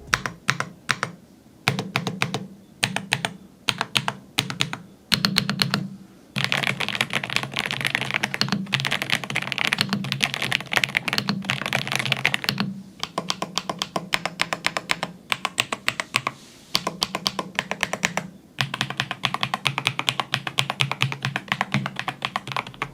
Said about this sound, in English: let's go ahead and see how it sounds. Type on it.